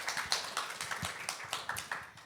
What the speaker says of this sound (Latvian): Var aplaust arī.